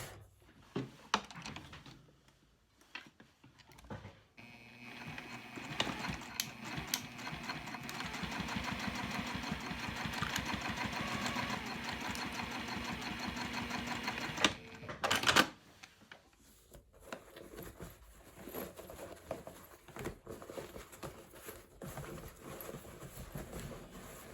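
Sewing machine stitching Sileather fabric to close a turning hole: a close, steady mechanical whirr that runs for about ten seconds, with scattered handling clicks before and after.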